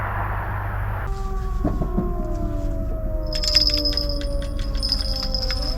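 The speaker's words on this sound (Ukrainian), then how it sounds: "каже відбій повітряної тривоги." A distant air raid all-clear siren wails, its tones slowly sliding downward in pitch, over a low background rumble and some faint clicking.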